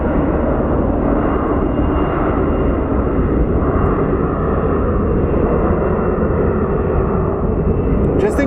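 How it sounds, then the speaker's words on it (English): A large airliner takes off at Phoenix Sky Harbor airport, its engines a powerful, unbroken roar with deep rumble, heard at a distance through a bandwidth-limited stream. "This machine weighs a couple of 100 tons, and it's going to get airborne just through science."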